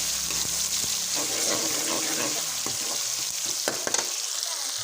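Tomatoes, chilies and spices for chicken haleem sizzle and fry steadily in a pan while a spoon stirs and scrapes through them, with scattered clinks and soft wet bubbling throughout.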